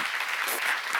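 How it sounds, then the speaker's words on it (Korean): A church congregation bursts into applause during a sermon, a brief, steady, dense wash of many hands clapping together. "박수하세요."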